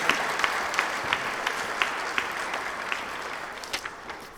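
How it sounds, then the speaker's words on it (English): Audience at a National Honor Society induction applauds the executive board members: a sustained wash of many hands clapping, with sharper individual claps standing out, fading slightly toward the end. "I think we can give them a round of applause for doing such an amazing job."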